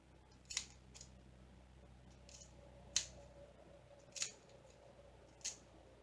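Scissors snip through label paper backed onto diamond painting canvas, four or five crisp, close cuts spaced about a second apart over a faint steady hum in a quiet room.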